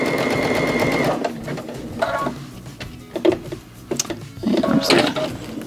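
A Baby Lock sewing machine stitches steadily at first, then runs in several short bursts that speed up, the motor whirring and the needle tapping close by, with no talk.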